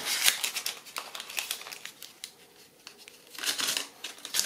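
A paper euro banknote is crumpled and folded by hand, giving a close, quiet run of crinkling and rustling with brief sharper crackles and no voices.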